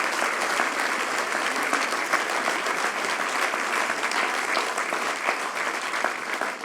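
Sustained, dense applause from an audience at a New Year's civic address in Guilherand-Granges, a steady wash of clapping holding at even loudness throughout with no voices over it.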